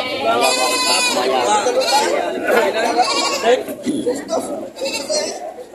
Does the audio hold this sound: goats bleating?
yes